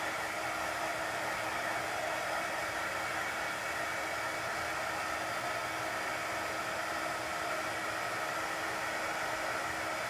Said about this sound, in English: just use a blow dryer or just put it to the side and let it dry